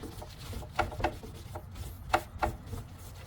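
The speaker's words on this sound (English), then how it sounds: "And then I will rub and get that paint off right there." A rag rubs paint off a wooden occasional table in quick, soft scrubbing strokes, close and fairly faint, with a few sharper swipes.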